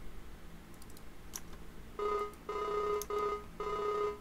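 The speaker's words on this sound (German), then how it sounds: "dann rufe ich ihn mal schnell an" A telephone rings in Farming Simulator 19 on a farm map: four clear electronic ring bursts with short gaps, fairly loud and alone, with no talking.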